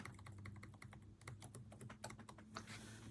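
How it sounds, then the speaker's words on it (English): Typing on a ProtoArc EKM01 Plus ergonomic wireless keyboard, a quick steady run of soft, quiet key clicks close by with no talking, ending in a slightly louder flurry. "This keyboard's nicer than expected."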